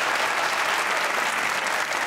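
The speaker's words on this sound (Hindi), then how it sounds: "आसिफ भाई के लिए तालियां होनी चाहिए बेसिकली" A TV comedy talk show studio audience applauds a guest, a thick, continuous wash of many hands clapping at steady loudness throughout.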